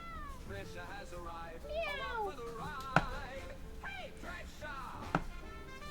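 A house cat meows repeatedly indoors in a series of rising and falling calls, fairly close, with a couple of sharp taps between them and a soft background hum.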